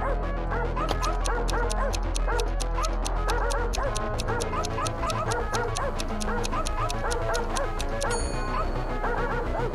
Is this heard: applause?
no